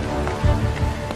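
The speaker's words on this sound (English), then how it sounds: "it's the sound of ice crystals hitting the aircraft" Ice crystals pelting an aircraft cockpit at night in cruise: a dense, loud crackling patter like heavy rain on a surface, over a steady roar, lasting about a second.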